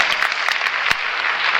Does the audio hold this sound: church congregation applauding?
yes